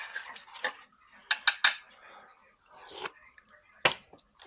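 A metal spoon stirs a mixture in a bowl, producing a scattered run of close clinks and scrapes with short quiet gaps between them.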